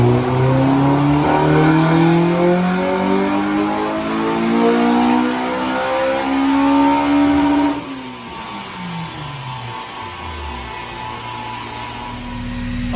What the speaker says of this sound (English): Obviously, tuned in Hondas, it can get a bit loud.